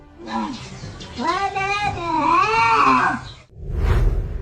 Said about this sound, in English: Two cats were caught in a heated altercation, and the black cat was holding the orange cat down with its paw.